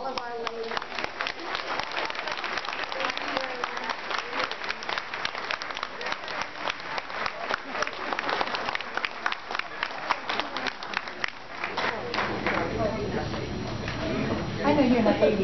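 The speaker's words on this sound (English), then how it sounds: "So please give an applause to all of our ladies." An audience applauds at a recognition and appreciation event, with dense sustained clapping throughout. Voices and other sounds run underneath, and a brighter burst comes near the end.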